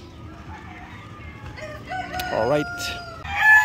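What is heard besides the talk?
barred rock chickens crowing and clucking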